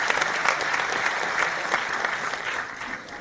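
A student audience at Gujarat University in Ahmedabad bursts into steady, dense applause that holds for about three seconds, with a faint voice underneath.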